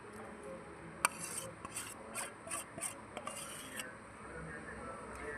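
Khoa being worked by hand into a pinni mixture in a metal pan, with repeated scraping and rubbing strokes in an uneven rhythm, one sharp clink, and a close, fairly quiet texture.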